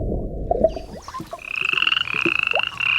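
Toads croak up close in a rapid pulsing trill that begins after a short rumble of background noise, with high chirping calls layered over the rhythmic croaks and no speech.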